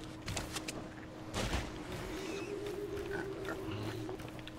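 Low grunting oinks from a pig in Sea of Thieves come through faintly over a steady hum, a few short snorts spaced across the moment.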